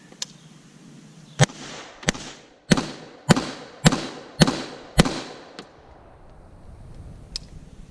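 Rifle shots fired on a range, about seven sharp cracks spaced roughly half a second to a second apart, each with a short decaying echo, with quiet ambient noise between and one faint distant pop afterward.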